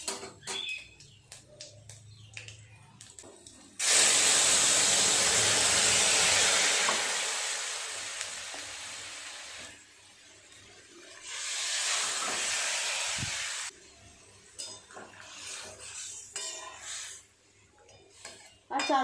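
Five-spice tempering in hot oil for a Bengali fish curry, then the broth poured in, making a loud, close, sustained sizzling hiss that fades and flares again, with utensil clinks around it.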